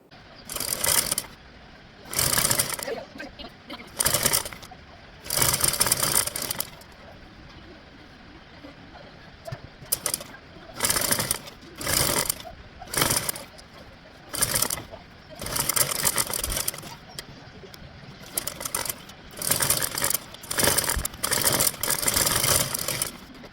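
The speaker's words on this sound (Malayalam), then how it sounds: "അപ്പോൾ അതുകൂടെ നമുക്കൊന്ന് തയ്ച്ചെടുക്കാം" A sewing machine stitching cloth for an umbrella skirt, running in repeated bursts of rapid whirring and clatter, each a second or two long and separated by quieter gaps.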